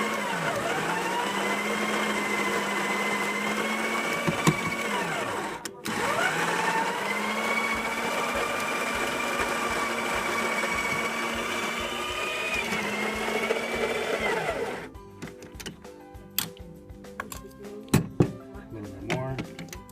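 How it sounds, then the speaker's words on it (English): Coffee being ground in the grinder of a Briel two-group DEG229ET3 espresso machine: a steady, loud motor whir that runs for about fifteen seconds with one brief break, then cuts off, leaving faint clatter. "So we'll grind our coffee."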